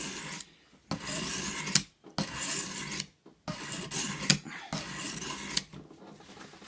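A knife blade drawn across a sharpening stone in long, even rasping strokes, four or five close, steady scrapes separated by brief silent gaps as the blade is lifted and repositioned.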